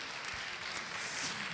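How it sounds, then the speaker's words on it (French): Audience at a conference afternoon session applauding, a dense steady wash of clapping from many hands, continuous and moderately distant. "Vous pouvez vous applaudir."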